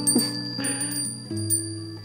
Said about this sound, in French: C'est un carillon Winnie l'ourson.